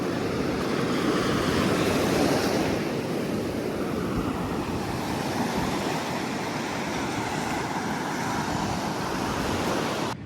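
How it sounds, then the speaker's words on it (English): Ocean surf rolling onto the sand at a beach in Navarre, Florida, a broad steady wash of breaking waves mixed with wind rumble against the microphone, continuous and fairly loud, no speech. "just chilling here at the beach"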